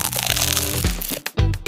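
Crisp crunching of Chris Munch crackers being bitten and chewed, a close, loud series of crackly bites with a brief pause before a final crunch.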